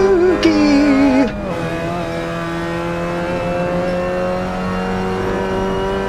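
Race car engine in the Assetto Corsa sim at Virginia International Raceway, onboard, revving hard with a rising whine, then a shift and a steady loud drone held close and continuous.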